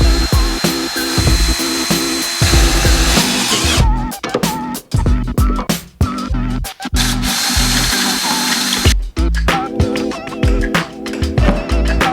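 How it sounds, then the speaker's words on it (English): A power drill whirs in repeated bursts drilling holes in a 2022 Lynx Rave snowmobile, starting and stopping loudly up close, with short pauses between runs. "So I gotta drill 6 holes, 3 on each side"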